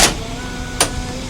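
A truck door is checked during an inspection, with a short latch click at the start and another sharp clunk partway through over a low idling engine.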